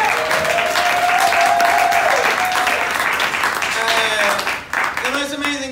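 Crowd applause at a fundraiser show at a bar venue, loud sustained clapping with cheering and a few voices whooping over it, dipping briefly near the end before picking back up.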